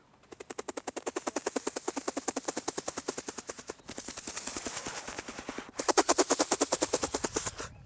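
Rapid, evenly chopping helicopter rotor thump plays as a story sound effect, a steady pulsing beat that drops out briefly twice and returns louder toward the end.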